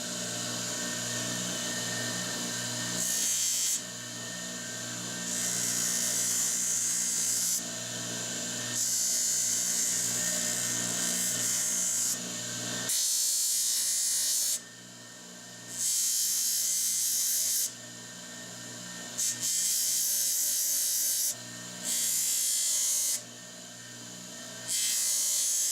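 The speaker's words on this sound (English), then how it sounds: "So at this point, I'm pretty much done with sanding." A power sander works over a DIY knife made from an old file, whining in repeated bursts of several seconds with short pauses between passes, close and fairly loud.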